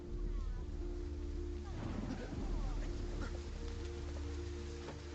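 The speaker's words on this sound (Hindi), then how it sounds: "बहुत तेज बारिश हो रही है।" Heavy rain pours steadily, a dense continuous hiss with low rumble throughout, while other sounds and brief voice-like activity mix in near the middle.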